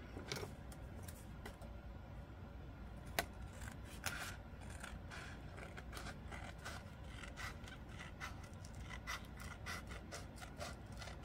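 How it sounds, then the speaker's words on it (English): Decent-sized scissors snip and trim off excess material in quick, irregular crisp cuts with faint scraping and rustling, close and fairly quiet, with no talking. "grab some decent sized scissors"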